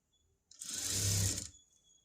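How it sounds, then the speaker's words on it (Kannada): A sewing machine runs a short, loose stitch along a blouse hem in one steady whirring burst of about a second, close and clear, with near silence before and after. "ಸೊ ನಾನಿವಾಗ ಲೂಸ್ ಸ್ಟಿಚ್ ಹಾಕ್ಕೊಳ್ತಾ ಇದ್ದೀನಿ."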